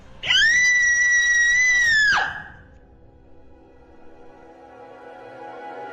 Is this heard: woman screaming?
yes